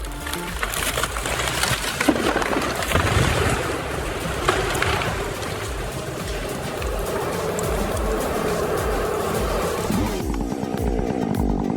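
A powerful chainsaw machine cuts into a tree during professional tree felling, its engine roaring continuously and loudly with a rough, buzzing drone and shifting load over nearly twelve seconds, no voices.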